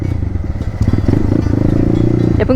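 Motorcycle engine pulling in second gear on a dirt practice track for jumps, a steady low chugging rumble with rattly clatter, loud and close throughout, with no clear talk over it.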